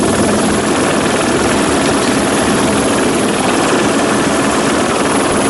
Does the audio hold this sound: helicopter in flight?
yes